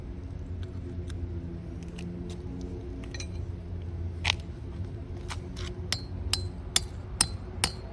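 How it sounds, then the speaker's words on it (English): Sharp hammer blows ring out with a carpenter's hammer, sparse at first and then quicker and louder, over a low steady background rumble. "That's gonna take a while with just a carpenter hammer."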